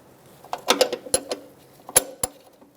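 A wrench works a front brake hose fitting on a 2007-2012 Nissan Altima, giving a handful of sharp, close metallic clicks and ratchet-like ticks spaced irregularly over a quiet background.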